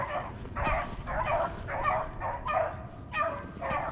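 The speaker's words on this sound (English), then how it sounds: "That the dogs are running this rabbit really good right now." Pack of hunting dogs baying and yelping in steady repeated bursts while running a rabbit through the woods in southwest Virginia, moderately distant with no talk over them.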